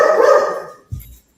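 Dogs barking, a loud bark followed by a shorter, lower yelp, close by and alone with no talk.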